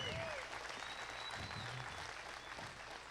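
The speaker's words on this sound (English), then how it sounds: "give her a round of applause" Audience at a market beef show giving a woman a round of applause, a steady patter of clapping from a modest crowd that gradually thins, with faint voices underneath.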